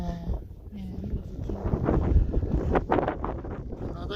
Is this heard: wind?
yes